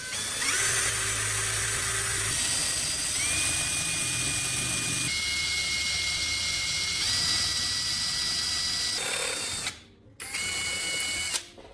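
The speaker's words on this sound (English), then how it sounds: "Start with a slow drill speed. Let the bit bite into the metal on its own." A power drill bores slowly through the cheap metal of a stapler, its steady whine holding level, then stepping up and down in pitch. The drill cuts out briefly near the end before starting again.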